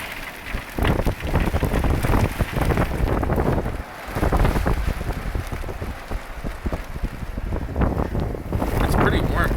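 Wind whips hard off a house during a rainstorm, roaring in irregular gusts that batter the microphone, with rain hissing on surfaces underneath. Someone speaks through the din.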